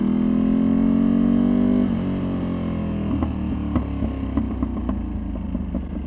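A tuned Ducati Panigale V2 motorcycle engine hums loudly, then eases off as the exhaust crackles with a rapid series of sharp pops and burbles.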